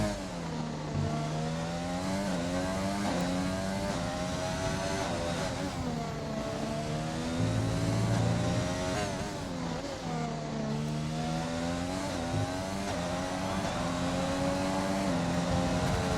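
A Formula 1 car's engine screams through a hot lap at Abu Dhabi in a racing video game, rising and falling in pitch with repeated upshifts and downshifts, loud and continuous from the onboard view.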